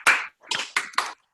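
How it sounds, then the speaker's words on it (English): A few scattered claps from online meeting attendees applaud the speakers, four short bursts of hand claps close to the microphone, sparse and uneven rather than a full round. "So I'd like to unmute everybody so you can give our speakers a round of applause."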